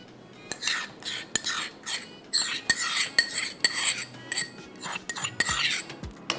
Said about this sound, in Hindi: ये हम डालते हैं इसमें घी